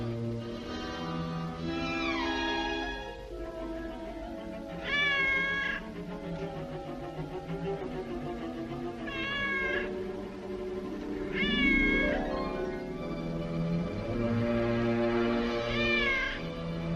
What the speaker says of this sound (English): That cat, I'd swear I put her out.